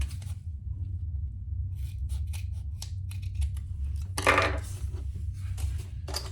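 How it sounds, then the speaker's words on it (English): Scissors snip through excess zipper tape on a fabric Devon pouch being sewn, a series of short close crisp cuts with one louder cluster of snips, over a steady low hum. "And then I'm going to cut off my excess zipper"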